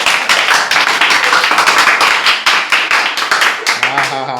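A small group claps in quick, steady rhythm at night in a Konkan village, close and loud, with voices and laughter mixed in toward the end.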